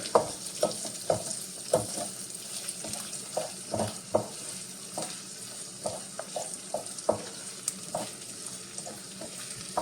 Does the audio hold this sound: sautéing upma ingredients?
yes